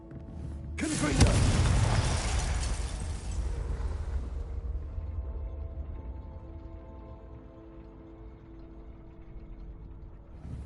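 The Confringo spell explodes in Hogwarts Legacy as a loud, sudden boom that rumbles and decays over a few seconds, followed by a low lingering ambient hum.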